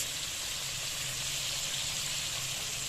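Spiced potatoes sautéing in a pan over a low gas flame, a steady soft sizzle and hiss that runs unbroken and evenly throughout, with no talk over it.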